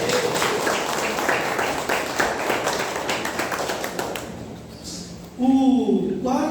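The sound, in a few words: congregation applauding in church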